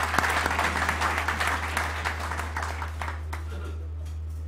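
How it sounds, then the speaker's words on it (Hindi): An audience applauds in honour of Syed Nemat Ali Shah, dense clapping loud at first and gradually thinning and fading, over a constant low electrical hum. "तो एक दफ़ा सैयद नेमत अली शाह साहब के लिए तालियां हो जाएं।"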